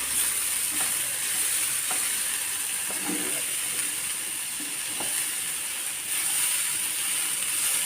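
Fish podimas is stirred and scraped in a pan on low heat, with a steady frying sizzle and irregular spoon scrapes and knocks that come close and fairly loud, and no talk.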